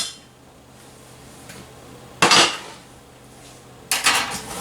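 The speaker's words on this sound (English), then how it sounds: "I'm just going to get a little knife out here." A small kitchen knife is pulled out among metal utensils, giving two sharp metallic clatters about two seconds apart against a quiet room background, close by with no talking.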